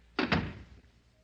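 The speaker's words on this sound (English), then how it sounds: "Close the door." A door shuts in an old-time radio mystery drama, two close thumps landing in quick succession, the second slightly heavier, then fading into a quiet room with no talk over it.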